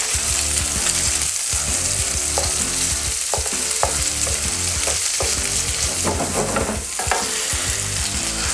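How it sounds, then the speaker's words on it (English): Pieces of ham frying in a pan for pasta carbonara, giving a steady close sizzle with occasional stirring scrapes and crackles, no voices. "We need just fry a little bit this until get some nice point."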